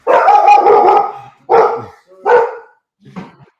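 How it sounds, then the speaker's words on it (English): A guard dog barks four times nearby, a long loud first bark followed by three shorter, fading ones in quick succession. "And there's my guard dog."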